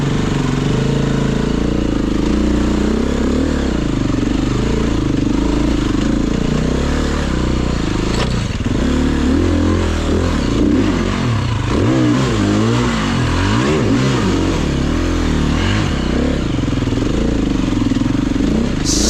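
A 350 motorcycle engine thrums loud and continuously as it is ridden along wet, cold, slippery lanes, the pitch rising and falling with throttle and gear changes.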